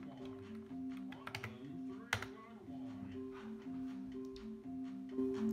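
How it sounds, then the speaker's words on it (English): Rapid keystrokes clatter on a computer keyboard during a Baldi horror game session, irregular bursts of clicks running close and clear over a steady game tone, with a sharp louder tap midway. "I can just type it down on my keyboard"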